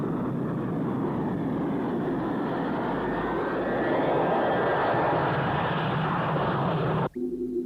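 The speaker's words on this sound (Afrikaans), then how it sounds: "Interster, Borman vra toestemming om te land" Roaring spacecraft engine sound effect in an Afrikaans audio drama as a craft flies in to land, a loud, steady broadband rumble that swells slightly then cuts off sharply near the end.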